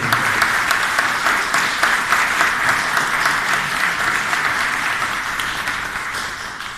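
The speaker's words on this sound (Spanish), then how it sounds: "Damos la bienvenida con un fuerte aplauso a Luis Vázquez Pérez" Steady, loud applause from a lecture audience welcoming speaker Luis Vázquez Pérez at a conference, many hands clapping continuously and evenly, slowly tapering toward the end.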